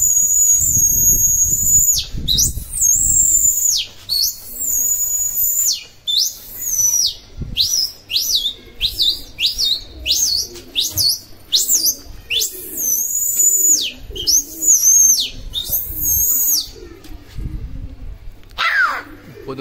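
Gola show pigeons kept in a flock call repeatedly, with bursts of high, sweeping whistle-like notes and softer coos. The calls are close and loud and come in quick clusters, with voices talking at times.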